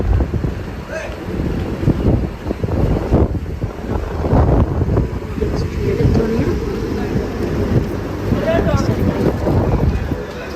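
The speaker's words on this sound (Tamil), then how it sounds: "ஆனால் காற்றடிக்குது" Gusty wind in Abu Dhabi buffets the microphone in a steady low rumble, with a voice speaking briefly in Tamil and faint outdoor activity behind.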